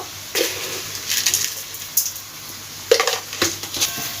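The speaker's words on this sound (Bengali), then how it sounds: "দিয়ে ভালোভাবে মিশিয়ে নেব পটলের সঙ্গে লবণ আর চিনিটা" Pointed gourd is stirred with salt and sugar in a pan: a utensil scrapes and clinks against the metal in short bursts over a faint sizzle.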